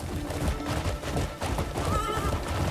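A horse in the Crimson Desert video game neighs with a loud, close whinny, joined by clip-clop hooves and game ambience, and nobody talks.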